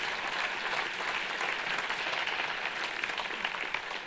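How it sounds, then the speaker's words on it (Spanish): Sustained audience applause from a conference crowd, dense and steady clapping at close range throughout with no voices over it. "Os voy a pedir otro aplauso para vosotros"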